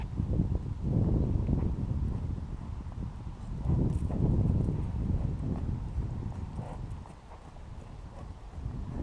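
Lusitano horse's hooves clip-clopping steadily on the footing of a riding arena during a dressage lesson, a continuous rhythmic thudding with a little wind in the background.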